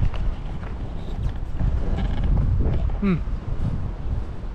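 Wind rushes over the microphone on a tropical island, a close rumbling roar with small knocks and a brief rising chirp near the end.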